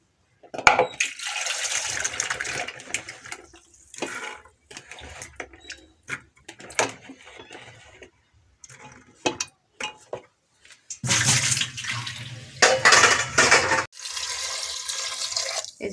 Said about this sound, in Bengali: আলু ধুয়ে নিচ্ছি এখানে